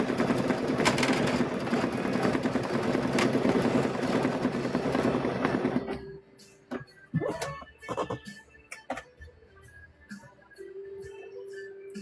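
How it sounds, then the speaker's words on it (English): A sewing machine with a noisy bobbin runs loud and continuous for about six seconds, then stops, leaving scattered clunks, clicks and rattles. "We may have to make sure that the bobbin is okay because I'm hearing that bobbin."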